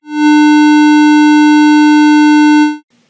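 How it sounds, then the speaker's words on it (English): A loud, steady buzzy square wave tone with bright harmonics, played through an audio amplifier and speaker, holds unchanged for nearly three seconds, then cuts off abruptly into near silence. "let's listen to what a square wave sounds like when it's passed through an audio amplifier and"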